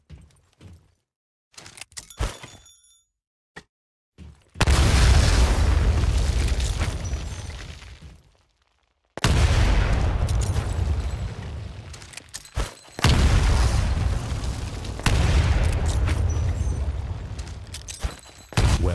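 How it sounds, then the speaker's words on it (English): Grenade explosions in the first-person shooter Titanfall on PC: after a few sharp knocks, a series of loud, booming blasts roar and rumble for several seconds each, separated by brief silences. "Throw a grenade into each of the windows"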